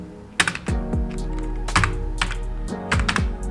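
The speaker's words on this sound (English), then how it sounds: "you have to type in the search box" Someone types on a computer keyboard, entering a search into a search box. Close, crisp key clicks come in short bursts with brief pauses between them, over a low steady hum.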